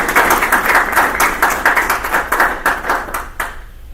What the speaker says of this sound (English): Let's give them a round of applause for putting this on.